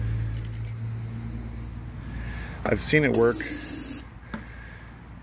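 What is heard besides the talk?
aerosol spray into lawn mower carburetor and spark plug holes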